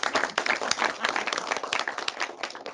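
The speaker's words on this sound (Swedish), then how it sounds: "Här i Linköping applåderar vi alltid när vi har hört någon." An audience in Linköping claps after a talk, with dense, steady applause from many hands in a room and no break for its short length.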